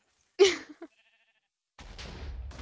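A sheep in the Minecraft game on the Epicube server gives one short, close bleat with a couple of tiny clicks after it, followed by a stretch of quiet and then a rough, noisy rumble of game sound.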